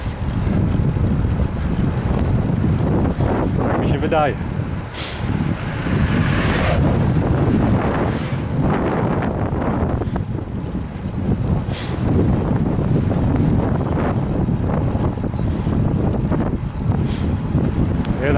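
Steady wind roar buffets the microphone while riding a Scott Solace 15 Disc Di2 road bike on a road, loud and continuous for the whole stretch, with someone speaking briefly over it.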